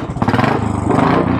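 A Royal Enfield Classic 500 Military motorcycle with a push-rod single-cylinder engine idles close by. It gives a loud, steady, rhythmic thumping with no speech.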